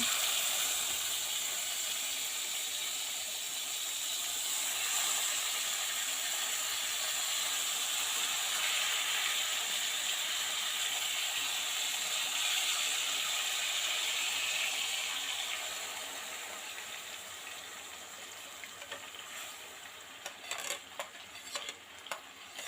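Marinated hilsa fish frying in hot oil with black cumin, a loud continuous sizzling hiss that softens toward the end, with light clinks of a utensil.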